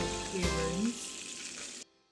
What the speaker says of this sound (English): I'm going to saute this until the onions become translucent.